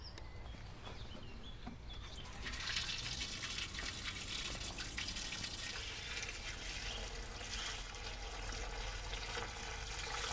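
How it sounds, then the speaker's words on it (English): Rainwater from a garden water butt splashes and pours into a pot, a steady broadband rush of filling water that swells louder after a couple of seconds and runs continuously. "fill up this with some rainwater from the water butt, top that pot up"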